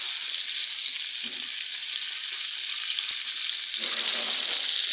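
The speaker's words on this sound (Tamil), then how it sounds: "அப்புறம் மீனை பொறிக்கிறாரு" Fish deep-frying in hot oil for a fish curry, giving a dense, steady hiss of sizzling bubbles, close and continuous, with a few faint low knocks underneath.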